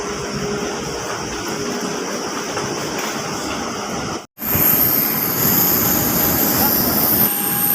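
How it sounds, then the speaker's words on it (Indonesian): A steady roar of Boeing 737-900ER jet engines fills the clip, briefly cutting out before returning louder and brighter, with a constant whine on top. "Akhirnya sudah di pesawat itu Boeing 737-900 ER"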